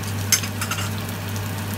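Mantis shrimp stir-fried with garlic, pepper and coriander root sizzle steadily in hot oil, with soft scraping stir strokes over a constant low hum, close and without talking.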